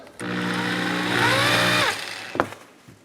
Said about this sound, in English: turn on your power drill to tighten it up